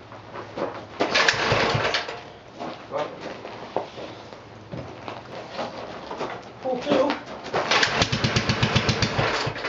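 Pull-starting a 1948 L engine with the throttle opened slightly: bursts of yanking and sputtering mechanical noise between stretches of talk.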